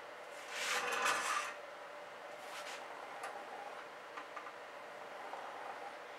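Spatula dragging and scraping fluid acrylic paint across canvas, a soft rasping swipe up close followed by fainter, shorter scrapes and light taps in a quiet room.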